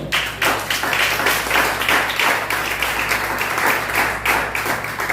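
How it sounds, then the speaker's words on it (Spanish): A church congregation claps together in a steady, even rhythm, a dense wash of hand claps filling the space with a low hum beneath. "demos palmas al Señor"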